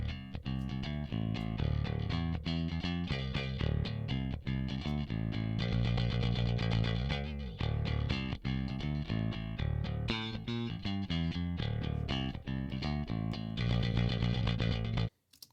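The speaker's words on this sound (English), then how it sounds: "let's just listen to a little bit of the bass" An electric bass guitar played dry, without the Hellraiser amp plugin, runs through a busy riff over a full band mix with drums, driving steadily and loudly for the whole stretch before cutting off abruptly.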